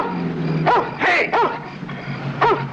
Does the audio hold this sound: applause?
no